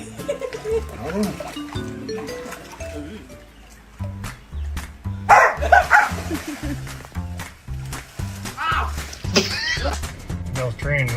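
A dog barks back after its owner imitates barking at it at home; loud, close voices and a person's mock barks mix with several short, sharp bursts of barking and scuffling, with excited talk throughout.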